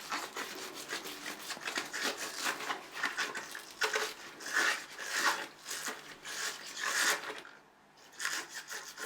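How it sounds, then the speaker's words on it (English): A scrubber rubs back and forth over limescale on a shower head, a run of rough, rasping strokes in a steady rhythm, fairly quiet and close, with a brief pause near the end. "I'm going to get any scrubber, whatever you use, just to get rid of the limescale this way."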